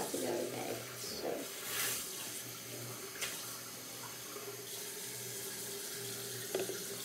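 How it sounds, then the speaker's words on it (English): Tap water runs steadily into a cup for mouthwash at a bathroom sink, a continuous close splashing stream with a low hum underneath and no talking. "put a little bit of water in there."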